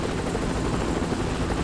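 Helicopter in the video game Saints Row 3: a steady, loud rotor and engine drone, continuous and close, with no voices over it.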